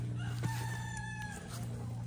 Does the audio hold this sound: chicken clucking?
yes